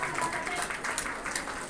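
Audience clapping for prize winners at a New Year celebration event, a steady patter of applause filling the short moment at a fairly loud level.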